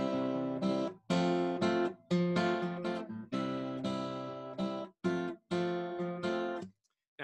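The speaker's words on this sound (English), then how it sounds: "say our progression was the one chord and then the four chord with just triads, it sounds like this" Chord progression in C alternating the I and IV chords as plain triads, each chord struck and held briefly then restruck in a steady pulse, a clear close tone throughout and no speech.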